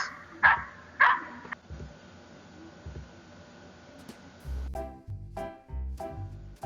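Dogs give a few short barks and yips near the start, followed by thumping and rustling noises.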